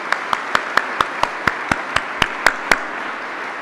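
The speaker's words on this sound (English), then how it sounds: "Please join me and give a round of applause for that." A round of applause at a medical faculty graduation ceremony, heard as about a dozen sharp, evenly spaced claps of a single pair of hands, fairly close and alone, with no crowd swell behind them.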